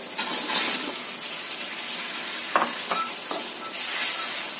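Tofu simmers and is stirred in a sauce in a pan, a close bubbling sizzle with a few sharp utensil clinks and a wet, splashy stir.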